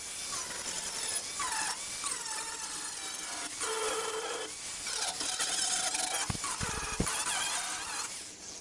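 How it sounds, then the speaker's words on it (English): A stripping disc grinds across a steel car floor brace with a continuous, gritty rasping buzz that rises and falls in pitch as pressure shifts, close and fairly quiet, with a few sharp clicks near the end. "Using this stripping disc is useful for locating the divots where the spot welds are."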